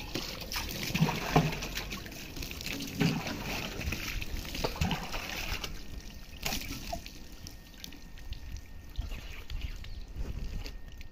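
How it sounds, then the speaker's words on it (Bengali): Water splashes and trickles close by as an uncle bathes outdoors beside a water tank, with irregular pours and drips rising and falling over steady background noise. "কাকা এখন স্নান করবে এখানে আমাদের ট্যাঙ্কির পাশে এই জল দিয়ে"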